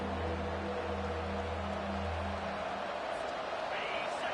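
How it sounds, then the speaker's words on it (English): Stadium crowd roaring during an LSU versus Alabama college football game, a dense steady wash of noise from the stands, loud and continuous, with a commentator's voice faintly under it. "listen to this crowd noise. This stadium is vibrating"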